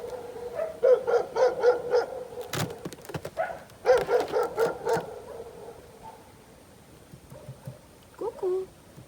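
Dogs barking in bursts of several sharp, repeated barks, fairly close, with a quieter pause and then a short final yelp-like burst, with a person talking over parts of it.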